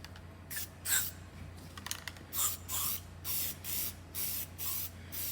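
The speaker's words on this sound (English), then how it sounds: "Now we're going to spray the developer on it." Repeated short hissing bursts of an aerosol can spraying dye-penetrant developer onto a MIG weld, about six quick sprays in a steady rhythm, close up with no talking.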